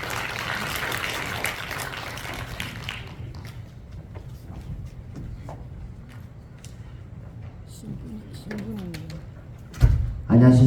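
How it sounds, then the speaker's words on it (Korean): Applause greets lecturer Hong Seong-min, a Catholic priest and professor at Busan Catholic University, at a Busan youth anti-drug event: a dense clatter for the first few seconds that fades into quiet room noise with faint shuffling. "박수로 맞이해 주십시오."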